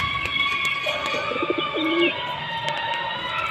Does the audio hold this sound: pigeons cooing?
yes